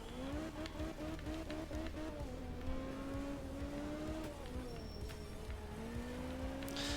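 A Group B rally car racing on a short forest stage in the video game art of rally, its engine droning steadily and shifting pitch as it revs and changes gear, loud and continuous without talk.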